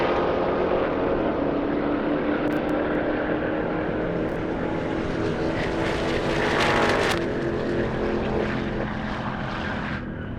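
An Audi RS3 and a Jeep Trackhawk launch in an airstrip drag race, a loud sustained engine roar that swells and climbs in pitch, then eases slightly near the end, with no voices.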